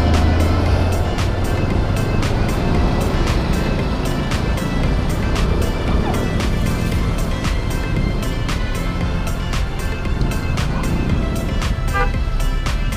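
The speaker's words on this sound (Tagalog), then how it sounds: "Tindi ng traffic ngayong umaga na to" Morning road traffic on Paliparan Road in Dasmariñas, with roadwork nearby, makes a loud, continuous rumble of engines close by, with a steady wash of noise and faint repeated ticking throughout.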